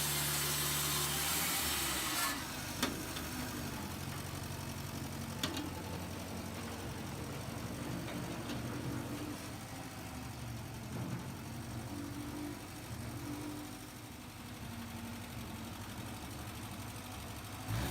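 The motor of a homemade band saw with twin steel posts and a crank-adjusted top wheel runs steadily in a rural setting for processing raw pine, a continuous loud hum and rattle with faint bangs at the start.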